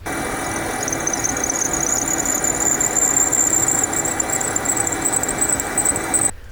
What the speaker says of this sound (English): A couple months later, we started hearing this little squeaking noise